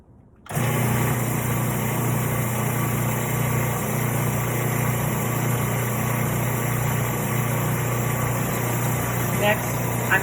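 An electric mixer beats cake batter for a Neapolitan cake, a steady loud motor whir starting abruptly and running without pause for about ten seconds.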